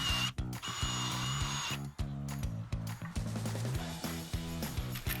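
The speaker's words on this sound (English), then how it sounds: "Next, I pre-drill mounting holes to prep for installation." A power drill pre-drills mounting holes in a garage ceiling for a motorized storage rack, whirring in repeated bursts with brief pauses and pitch shifts as it bites, close and fairly loud.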